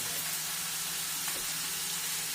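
Sloppy Joe meat mixture sizzling in a pan on a stovetop, a steady, even hiss of frying that stays constant and close with no talking over it.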